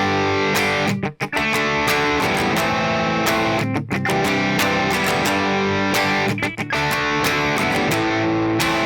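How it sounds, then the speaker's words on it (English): Distorted electric guitar strums open chords in a chorus progression, loud and continuous, with brief pauses between phrases. "In the first chorus, we're going to be playing the same chord structure, but we're going to be using these open style chords."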